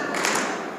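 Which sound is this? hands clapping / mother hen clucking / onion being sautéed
hands clapping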